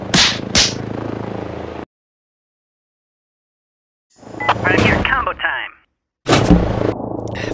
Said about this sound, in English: Funny story, this cannon was actually built to fire humans